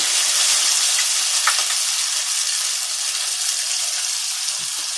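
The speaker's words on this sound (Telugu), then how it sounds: "ఇప్పుడైతే నూడిల్స్ వేసేస్తున్నాను" Homemade noodles hit a hot pan and are stir-fried with a loud, dense sizzle and steady stirring, close up and alone, without talking.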